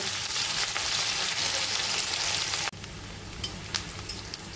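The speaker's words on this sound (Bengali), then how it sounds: "পেঁয়াজ কাঁচা লঙ্কা হালকা করে ভেজে নিয়ে" Chopped onion and broken green chillies frying in a pan, a loud continuous sizzle that drops sharply partway through to a quieter crackle with a few stirring scrapes, and no talking.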